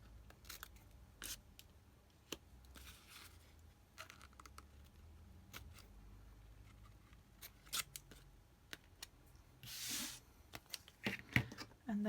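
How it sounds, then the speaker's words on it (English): Scissors snip small V notches into the corners of paper for a hexagon quilt-tag papercraft, a run of quiet, crisp cuts scattered across the clip with faint rustling of paper between them. "So I'm just like making little V's"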